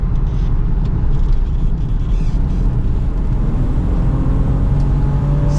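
Tuned BMW E36 323i with an ECU tune, engine droning loudly and steadily as it revs on a wooded mountain touge road, heard from inside the car, with continuous engine and road noise and no speech.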